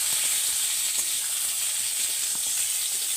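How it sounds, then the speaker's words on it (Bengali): Sliced pointed gourd (potol) frying in hot oil in a pan, a steady bright sizzle and hiss with faint crackles and soft stirring taps, continuous and close, with no talking. "দেখি ঢাকাটা খুলে পটলটা কীরকম ভাজা হচ্ছে"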